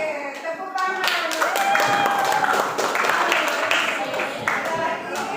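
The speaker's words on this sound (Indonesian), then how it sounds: "Oke, tepuk tangan." Classroom students in a seventh-grade social studies lesson clap together, a dense patter of hand claps lasting several seconds, close and steady, with children's voices and chatter mixed in underneath.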